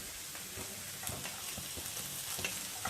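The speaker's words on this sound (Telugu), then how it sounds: "ఇవి కొంచెం వేగిన తర్వాత బెండకాయ ముక్కలను వేసుకొని వేయించుకుందాం." Okra pieces fry with onion and curry leaves in a pan, a steady close sizzle with soft periodic stirring scrapes, no voices.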